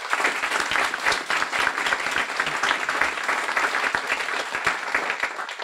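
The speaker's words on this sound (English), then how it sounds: "a thank you and a warm round of applause for Nick" Warm audience applause at a Guiding Eyes graduation ceremony, a steady dense wash of many hands clapping together for several seconds, loud and sustained without pause.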